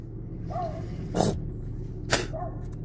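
Dog nearby in a house, giving short high whimpers and two sharp barks over a low steady background hum.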